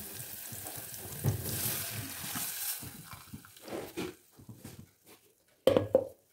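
Buttermilk poured into a hot pan while cooking kadhi, a soft liquid splash and sizzle with stirring and clinks, fairly quiet and intermittent, ending with a louder clatter.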